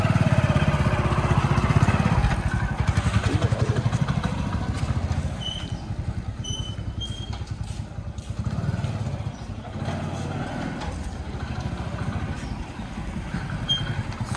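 A Hero Honda CD 100 SS motorcycle engine runs steadily and fairly loud and close, its single-cylinder putter continuous throughout, shifting slightly as it settles into riding.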